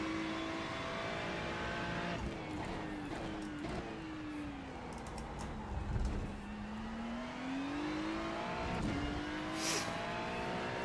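Race car engine lapping Spa Francorchamps in iRacing, a loud buzzing engine note climbing and dropping through gear shifts and braking, with brief tyre noise and a sustained drawn-out rise, continuous and close with no talking.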